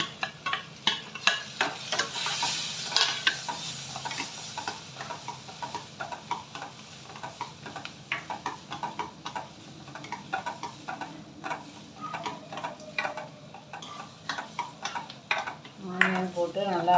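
Chopped onion sautéing in butter with garlic in a pan for mushroom soup, with a soft sizzle under frequent clinking and scraping of a spatula, fairly quiet and close.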